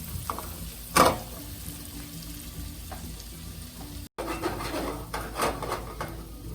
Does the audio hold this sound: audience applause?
no